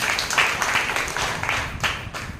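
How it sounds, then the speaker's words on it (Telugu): Worship congregation clapping in a church service, a steady dense wash of many hands continuing for a couple of seconds at moderate level without pause. "చప్పట్ల కొట్టి దేవుని"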